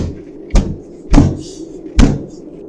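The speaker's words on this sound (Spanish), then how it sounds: "Aquella cosa comenzó a golpear la puerta una y otra vez." Three heavy thuds on a door spaced roughly half a second apart, each a sharp loud bang with a short boomy tail, with no talking.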